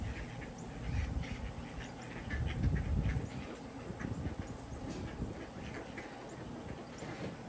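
Ducks and other birds quack and chatter in a busy, continuous crowd at a man-made lake on a South Carolina plantation as they wait to be fed, heard from nearby with outdoor background noise.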